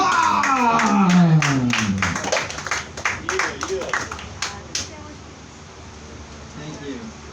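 Audience at an open mic comedy show clapping and whooping for comedian Jack Schwab, a burst of applause that thins into scattered individual claps, with voices calling out over it.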